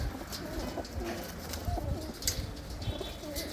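Prized racing pigeons coo continuously at close range, a dense, soft rumble of overlapping calls with no talk.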